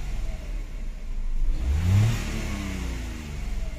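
A three-cylinder car engine, being checked for a misfire, swells from a steady idle into one strong rev that peaks near the middle and then settles back, heard close with no talking.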